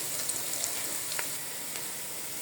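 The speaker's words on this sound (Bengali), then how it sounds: "এই তো আমি পেঁয়াজটারে হালকা করে ভেজে নিই, পোলাও রান্না করবো তো তাই।" Onion fries lightly in a pan for pulao, a steady soft sizzle with faint crackles and a few quiet ticks from stirring, heard alone.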